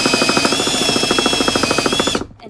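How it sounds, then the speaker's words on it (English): A drill bores pocket holes through a Kreg pocket hole jig 320 into a board, giving a loud, fast, rhythmic chattering whine that runs steadily for about two seconds and then stops. "Okay, now we're just going to drill the holes."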